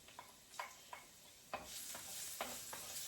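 Garlic sautés in a hot pan for ginataang kalabasa with pork and shrimps. A soft sizzle runs underneath while a spoon stirs and scrapes in about eight quick, distinct strokes. No one speaks.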